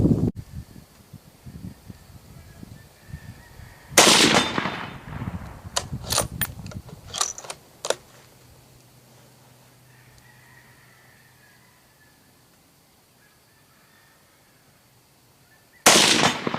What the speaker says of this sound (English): I'm just going to finish off that box of Winchester white box at the 100-yard steel target